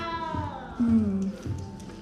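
A cat meows in the video game Hogwarts Legacy, a drawn-out falling mew followed by a shorter one, heard up close over soft game ambience with faint voices in the background.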